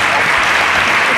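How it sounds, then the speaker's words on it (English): Applause from a studio audience, a short dense burst of clapping close and loud throughout. "Please, a round of applause to the"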